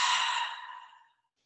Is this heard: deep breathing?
yes